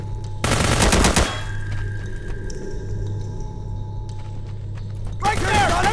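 Loud burst of machine-gun fire in the Men of War video game, rapid bursts at the start and again near the end, with a steady low rumble and background game noise between them.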